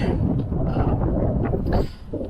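Steady wind buffeting a microphone while riding an Inmotion V11 electric unicycle, a dense low rumble that roars continuously with brief gusty swells, no clear voices.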